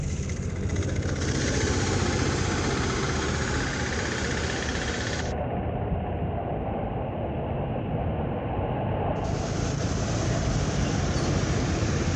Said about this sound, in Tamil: வாகனம் போய் அப்படி வெள்ளம் அடிக்குது.